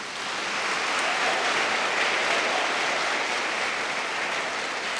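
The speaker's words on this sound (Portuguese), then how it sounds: "Cadê as palmas para Jesus?" A congregation at Catholic Mass applauds, producing a broad, steady roar of clapping that swells in and holds evenly throughout with no voices.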